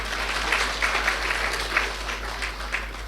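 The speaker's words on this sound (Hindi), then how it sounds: "ताली बजाओ अपने लिए" Scattered clapping from an audience at a Brahma Kumaris spiritual gathering in Delhi, with uneven bursts of hands over a low electrical hum, fairly soft and somewhat distant.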